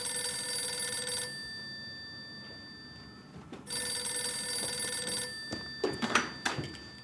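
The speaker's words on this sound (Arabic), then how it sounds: "بعديها بشوية لقيت التليفون بيرن." A telephone rings in two long electronic bursts separated by a pause, loud and clear in a quiet room, followed by faint handling knocks and rustles.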